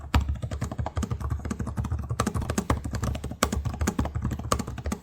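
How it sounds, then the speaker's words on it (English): Rapid, thumpy typing on the tactile keyboard of a 2025 Lenovo Legion 7i gaming laptop, a steady stream of close, crisp keystrokes with no talking. "The keys feel tactile, are very thumpy, and have long enough key travel."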